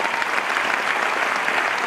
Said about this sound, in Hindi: सभी देवियों के लिए जोरदार ताली।